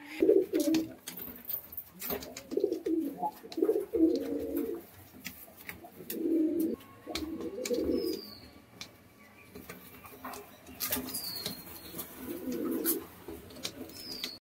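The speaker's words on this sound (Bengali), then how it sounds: "এবার দেখছেন একজোড়া কুচকুচে কালো জ্যাক পায়রা" A pair of jet-black Jacobin pigeons coo in repeated low, throaty bursts, with brief pauses between calls and a faint background hum, occasional wing flaps and distant chirps.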